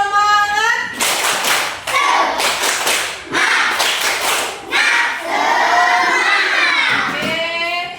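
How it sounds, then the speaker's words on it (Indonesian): Children in a classroom perform a rhythmic encouragement clap, bursts of group clapping in a patterned beat mixed with shouted chant-like voices, loud and close, over about eight seconds. "Coba biar tambah semangat. Tepuk semangat."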